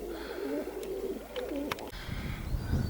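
White-tailed grizzled pigeons over a house on a frosty, windy day: a few faint, soft pigeon calls come through against a steady rush of wind.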